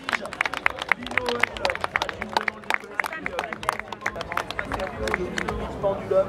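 Outdoor spectators at the Coupe Icare free-flight festival clap for aerobatic paragliding pilots, scattered crisp claps spread across the crowd, while an announcer keeps talking over the applause.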